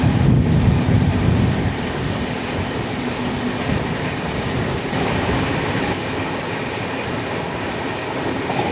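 A Mysuru–Thiruvananthapuram North Express LHB coach running at speed on a 130 km/h section, heard from inside as a loud, steady roar of wheels and wind rush, heaviest at the start and then evening out.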